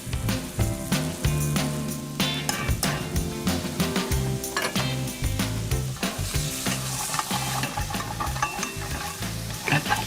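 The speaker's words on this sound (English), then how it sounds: "Then I grate in garlic. Followed by ginger, stirring everything together." Grated garlic and ginger sizzle loudly in a hot pan while a utensil stirs and scrapes through them in repeated rhythmic strokes, with occasional clinks against the metal.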